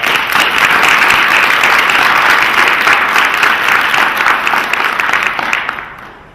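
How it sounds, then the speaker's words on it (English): Loud, sustained applause from a large audience, steady clapping that fills the space before tapering off at the end. "Let's give them a round of applause."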